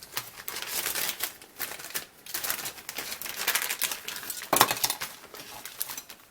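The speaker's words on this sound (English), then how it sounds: "Go ahead and cut that one open for you." A plastic bag of white parts from an AMT 1:25 scale 1967 Ford Mustang Fastback model kit is cut and opened, giving close, rapid crinkling and rustling in irregular bursts, with one sharper snip partway through.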